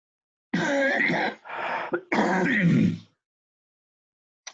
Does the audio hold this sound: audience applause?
no